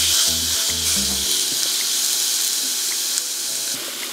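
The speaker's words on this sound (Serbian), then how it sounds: "sada ću spustiti meso i staviti da se prži" A loud, steady sizzle of meat searing in a hot pan, crackling throughout, with a few low thuds near the start.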